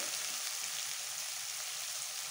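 Tomato masala for dhaba-style chana aloo ghugni sizzles steadily in a pan, a continuous close frying hiss without pause.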